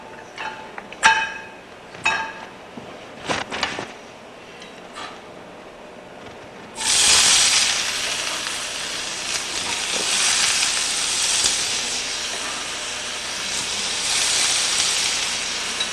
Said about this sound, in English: we can saute our peppers